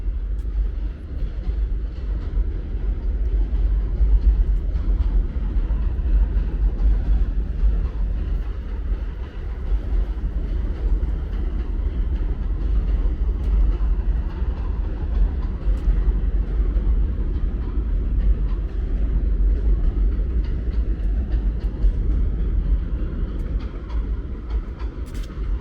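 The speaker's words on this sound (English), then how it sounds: "There goes the D train." A New York City subway D train passes at 23rd–27th Avenue in Brooklyn's Bath Beach–Gravesend area, a loud, continuous low rumble and rail roar that holds steady throughout, heard close by on a street.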